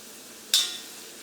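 Ginger, garlic and turmeric fry in hot oil for tomato pickle, a steady soft sizzle broken by one brief, sharp scrape of a stirring utensil before the hiss settles again.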